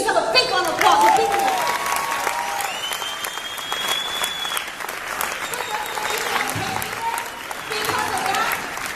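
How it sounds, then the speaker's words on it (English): Audience applause fills a large hall at a motivational event, steady clapping from a sizeable crowd running throughout with some cheering and a faint voice underneath. "Give yourself a big round of applause."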